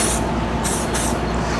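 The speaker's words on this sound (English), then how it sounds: "I'm gonna spray the original color here" An aerosol spray paint can hisses its original colour onto a stick in a loud, continuous close-up spray with short bright pulses, and no one speaks.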